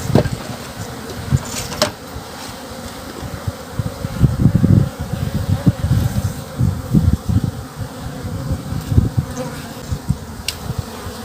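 Italian honey bees buzz around a hive during a spring inspection after winter, a dense close hum with occasional louder bees passing near and light handling noises, with no talk.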